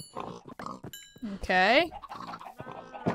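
Pigs oink and grunt in the Minecraft video game as they are bred with carrots, a loud squealing call in the middle among shorter grunts, with someone speaking briefly.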